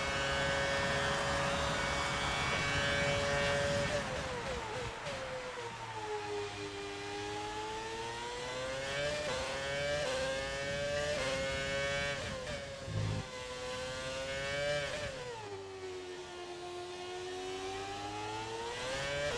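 An F1 car engine in the racing video game F1 2020 wails at high pitch and runs steady and loud throughout. Its pitch dips and climbs repeatedly as the car shifts gears and brakes into corners, then accelerates out of them. No one speaks.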